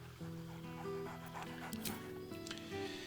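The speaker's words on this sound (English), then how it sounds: "barks merrily in something like agreement" A dog in Baldur's Gate 3 gives a few short, cheerful barks and yips over a steady tonal music bed, fairly quiet overall.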